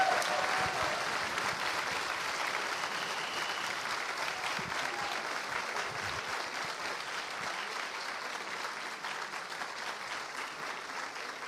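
A graduation ceremony crowd for a 2022-2023 master's degree presentation applauds the administrative team, prolonged steady clapping that starts strong and slowly thins over about eleven seconds.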